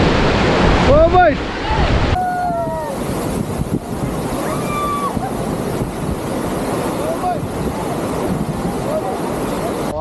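River water rushing during a rafting trip on the river at Rishikesh, a steady loud wash of flowing water with wind, while people shout and whoop briefly at the start.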